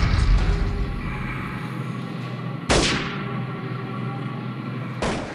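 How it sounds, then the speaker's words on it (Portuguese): Sharp gunfire bursts from a children's video game crack out twice, loud and close, each followed by a decaying tail over a steady background rumble. "Aquele som ali é um som de tiroteio, mas na verdade sai de um game"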